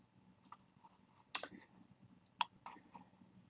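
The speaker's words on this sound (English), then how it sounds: "So we're going to click on this icon." Computer mouse clicking an icon in AutoCAD 2016 LT, a few sharp isolated clicks spaced across quiet room tone, with two distinctly louder clicks.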